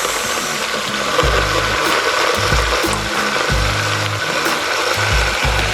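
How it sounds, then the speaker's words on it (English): A BlendJet Mini portable blender whirs steadily with a hissing motor drone, its low hum shifting in pitch now and then. "You can hear it, but it's not loud like a normal blender."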